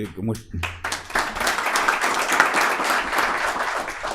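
Brief speech gives way to an audience breaking into steady applause for a presenter at a talk on hospital accreditation, the clapping continuing evenly to the end.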